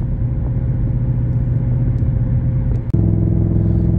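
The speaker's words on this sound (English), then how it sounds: "you can just hear this this exhaust" A steady, deep exhaust rumble drones loudly from close by, with a brief dip and a slight rise in tone near the end.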